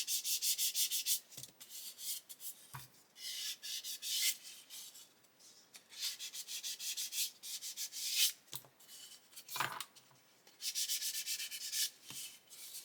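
A sanding sponge rubs back paint on a hobby model, repeated soft scratchy strokes in bursts of a second or two with short pauses between them, close up and quiet, no voices.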